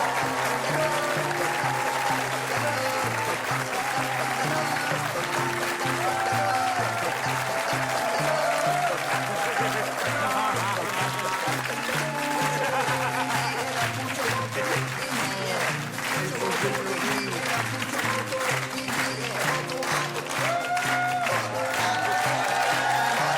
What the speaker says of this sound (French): Vos applaudissements les plus cosmiques pour Igor et Grishka Bogdanov.